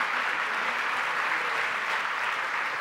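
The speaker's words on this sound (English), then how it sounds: "Please give a round of applause to our panel" An audience at an opening plenary of World Water Week 2016 applauds the panel with a steady, even wash of clapping from a large crowd that holds constant from start to finish.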